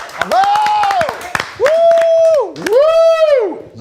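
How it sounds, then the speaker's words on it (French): A small crowd claps in scattered quick slaps, close by, under loud drawn-out voices that whoop and cheer over the clapping. "Je m'applaudis."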